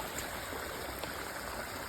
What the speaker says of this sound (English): This water is all rushing down to the creek.